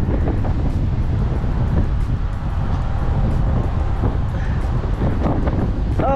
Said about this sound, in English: hopefully y'all can hear me with the wind